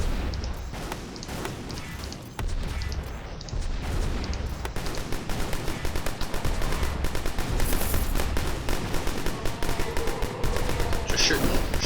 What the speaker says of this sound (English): just shoot more bullets